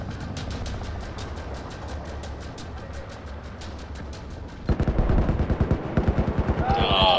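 Rapid automatic gunfire in Battlefield 4, a long run of evenly spaced shots that grows louder and heavier near the end, with no one talking.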